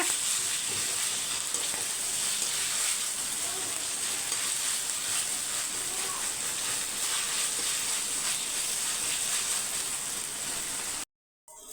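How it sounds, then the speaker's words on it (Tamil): Ginger, garlic and green masala fry in oil in a pan, giving a steady, close, continuous sizzle and hiss that runs unbroken before stopping abruptly near the end. "இஞ்சி பூண்டு பச்சை வாசனெல்லாம் போய் நல்லா எண்ணெய் பிரிஞ்சு வருது"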